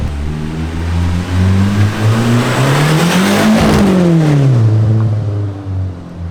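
A Nissan engine with a recirculated turbo wastegate revs hard and loud, its pitch climbing steadily to a peak and then falling away, close and continuous with no talking.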